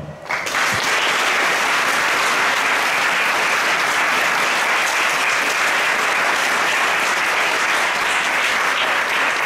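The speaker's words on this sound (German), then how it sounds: "ein großes Applaus für unser komplettes" A theatre audience at the musical play Flu(ch)t gives the whole production team a big round of applause. Dense, loud clapping swells within the first second and holds steady and unbroken to the end.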